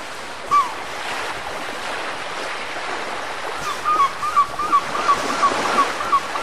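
Sea waves wash in as a sound effect in a children's number-writing game, a soft continuous surf rush with gentle swells, joined by a series of light chiming tones toward the end.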